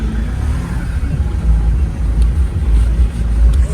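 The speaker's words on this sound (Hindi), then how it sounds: "फाइनली गाड़ी स्टार्ट हो गई भाई।" A Mahindra XUV500 diesel engine idles after being restarted following an error-code fault, a loud, close, steady low rumble with a voice heard briefly over it.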